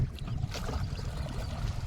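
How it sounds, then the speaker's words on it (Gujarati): Low, steady rumble and faint water movement from a small rowboat out on a river, continuous and moderately quiet with no clear voices. "પંદર વર્ષનો છોકરો આખી હોડી ચલાવો"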